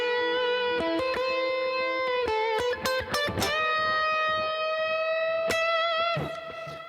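An electric guitar plays a lead line through the Pliny preset of a Neural DSP plugin: sustained, overdriven notes with quick picked changes and bends, ringing out alone and close.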